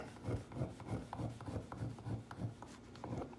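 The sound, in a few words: carding brush scrubbing a metal file clean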